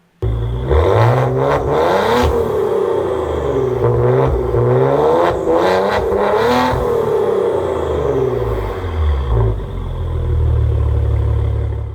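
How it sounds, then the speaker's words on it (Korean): A Maserati Quattroporte 3.0 S Q4 GranLusso revs repeatedly through its stock exhaust, the note rising and falling in loud surges before settling into a deep idle rumble near the end. "순정 마세라티 배기음 예쁜 거 알고 계시죠?"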